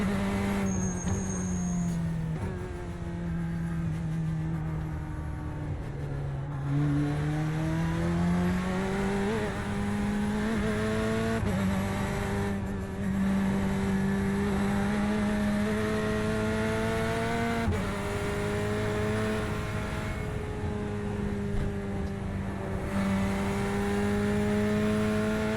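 A GT1 race car engine drones steadily at Mount Panorama in iRacing, its tone rising and falling through gear changes and throttle over a long continuous stretch, loud and close with no talking.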